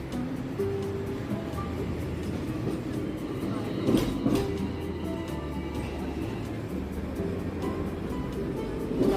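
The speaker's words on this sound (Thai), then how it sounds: "รถรางวิ่ง" A Hong Kong tram runs along Des Voeux Road West, a steady rumble and rattle of rail wheels under street noise, with a couple of louder clanks midway and someone talking faintly.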